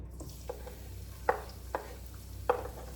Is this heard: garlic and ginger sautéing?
yes